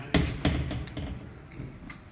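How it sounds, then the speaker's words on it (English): An Izod impact tester's pendulum swings down and strikes a metal specimen, producing two sharp metallic cracks in quick succession followed by a few lighter rattles and taps. "this will leave from its initial position and will strike the metal and break it"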